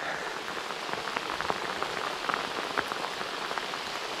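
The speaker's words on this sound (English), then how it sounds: "there's that much rain up back at camera" Dense, steady summer downpour on the River Trent pours nearby, its constant hiss broken by close pattering drops striking a camera.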